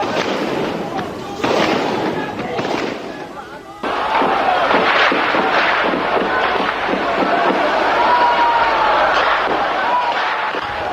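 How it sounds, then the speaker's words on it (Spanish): Archival recording from the night of the Tiananmen Square massacre in Beijing: dense crackling gunfire, bangs and rumble fill a chaotic open square, with shouting and screaming voices mixed throughout, loud and continuous. "Este es el verdadero sonido de la plaza de aquella noche. Disparos, tanques, fuego, gritos"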